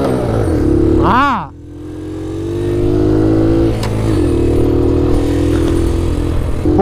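A Honda Dax 70cc semi-automatic motorcycle being ridden up and down, its engine revving up sharply, then settling into a steady, close drone as voices talk over it.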